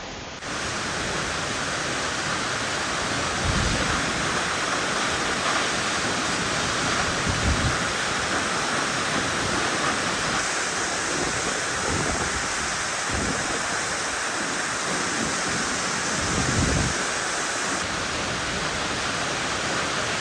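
Waterfalls at St. Mary Falls and Virginia Falls in Glacier National Park roar with a steady, dense rush of falling water that stays loud and unbroken throughout, with a few low thumps along the way and no voices.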